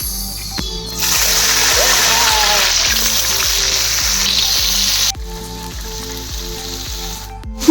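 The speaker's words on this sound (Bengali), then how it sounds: "কড়াইয়ের মধ্যেই জল দিয়ে দিয়েছি এখানে, এটা ভালো করে এবার ধুয়ে নিচ্ছি ডালটা" Lentils being washed with water inside a wok give a steady splashing, sizzling wash of sound for several seconds, fairly loud and close, with a rhythmic background pulse running underneath.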